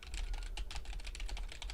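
A quiet computer keyboard, picked to avoid loud clacky keys, is typed in a rapid steady stream of soft close clicks with no pauses and no voices.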